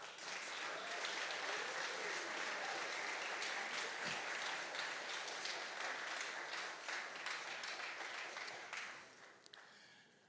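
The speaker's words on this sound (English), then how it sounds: "can I have a round of applause for Exchange?" Sustained, full applause from a large audience at an entrepreneurship innovation challenge final, dense and loud for about nine seconds before tapering off at the end.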